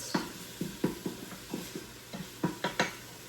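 Minced garlic sautés in an Instant Pot on saute mode while a utensil stirs it, giving a quiet scatter of scraping taps and clinks over a faint sizzle.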